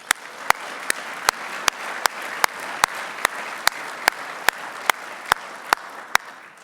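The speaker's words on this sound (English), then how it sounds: "A round of applause for our Navy League staff." Audience at a Navy League breakfast event applauds in a steady wash of clapping, with sharp, evenly spaced loud clicks repeating over it throughout.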